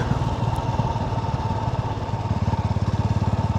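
A Sothassi 400 Classic motorcycle engine running steadily nearby, a low even putter whose beat grows more pronounced and pulsing toward the end, with no talk.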